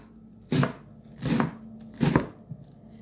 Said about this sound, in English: Some cilantro over here. I'm going to go ahead and get that chopped up and put in there.